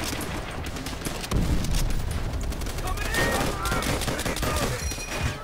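Dense rapid video-game gunfire rattles in near-continuous bursts against AI enemies, loud and close, with a heavier barrage kicking in partway through and voices faintly underneath.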